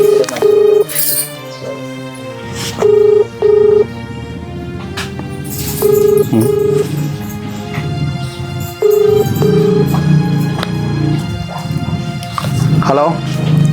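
A telephone call rings out as repeated short, steady tone bursts in a regular on-off pattern, heard over background music with some voices.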